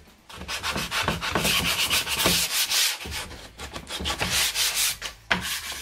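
Recycled pallet wood on a shoe rack is sanded by hand with steady, close, rhythmic scratchy strokes. The rubbing runs continuously with brief breaks between passes, and no voices are heard.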